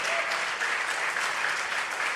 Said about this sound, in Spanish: Démosle otro aplauso y una alabanza grande a nuestro Dios.